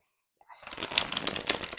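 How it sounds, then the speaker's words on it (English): Linen-finish gilded tarot cards riffle shuffled close up, a quiet start followed by a dense fluttering burst of card edges and two sharper snaps as the deck bridges. "Because they're linen, I'm probably gonna always riffle shuffle them"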